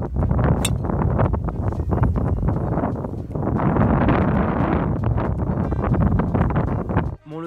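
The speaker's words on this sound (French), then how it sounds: "le vent souffle beaucoup trop fort de face" Strong wind buffets the microphone on a golf course during a stormy February round, a loud continuous roar with gusting surges that stops abruptly near the end.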